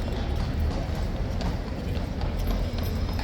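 A horse's hooves clip-clop steadily on the way back to the stables, a continuous rhythmic clatter close by under outdoor background noise.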